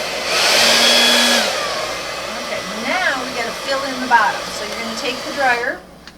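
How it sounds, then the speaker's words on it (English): A hair dryer blows wet paint across a painting, a steady loud broadband whoosh for the first second or so, then continuing lower as someone talks over it. "So you're gonna take the dryer"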